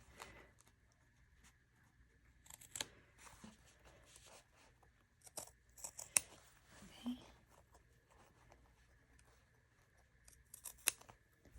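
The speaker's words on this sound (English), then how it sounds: "So then you're also going to cut along that V, along the edge." Scissors cut fabric along a V edge for a sewing pocket, faint close snips and crisp cuts spaced irregularly, with soft handling rustles between them.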